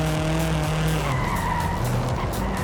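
Forza Horizon 5 car brakes hard on a Japanese-style touge mountain pass, tires squealing in a loud, continuous skid over engine noise, close and without speech.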